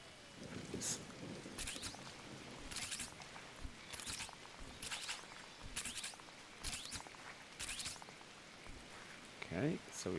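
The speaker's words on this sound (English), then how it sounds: "Hopefully you can hear the rain sound and the thunder sound" Rain falls in a gardening life sim game, with steady soft patter and repeated sharp bursts that could be thunder or footsteps, all quiet and low in level, while a person talks softly over it.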